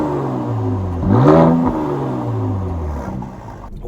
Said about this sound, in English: I cannot imagine justifying a C43 without having this exhaust as part of that package